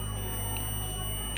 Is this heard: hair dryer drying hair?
no